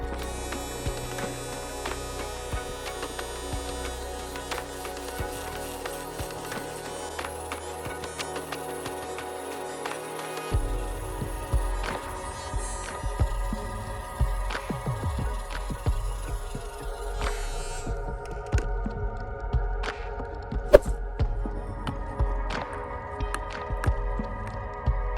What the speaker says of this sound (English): Dremel with 120 grit will serve well for this